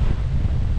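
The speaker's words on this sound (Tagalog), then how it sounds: "Kusuga sa hangin eh." Strong wind roars steadily, buffeting the microphone with a deep, constant low rumble.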